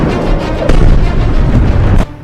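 Loud booming blasts and rumbling detonations from explosions in the conflict between Iran and Israel, heavy and continuous for about two seconds before cutting off abruptly.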